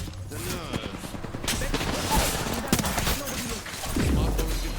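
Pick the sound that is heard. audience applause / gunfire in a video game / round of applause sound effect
gunfire in a video game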